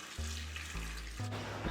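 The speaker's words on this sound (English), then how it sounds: "filling it with water," Water running from a tap into a large stock pot, a steady close rushing stream with the pitch shifting as the pot fills, heard alone.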